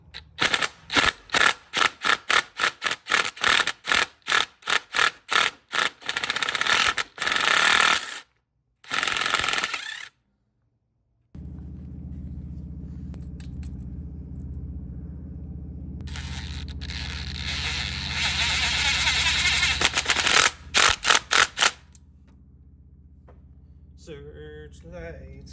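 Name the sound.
impact drill with 3/16 bit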